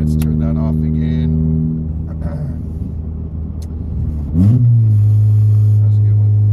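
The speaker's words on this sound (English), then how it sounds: "it revs up really fast and I really like that about this clutch" A Volkswagen MK7 GTI fitted with an XClutch stage 2 clutch revs inside the cabin, its steady engine hum dipping and then sweeping up sharply in a quick climb, with a voice speaking over it.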